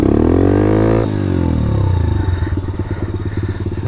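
A pit bike engine revs high and steady, then drops back to a rough, putting idle with rapid pulsing beats, loud and close with no talk.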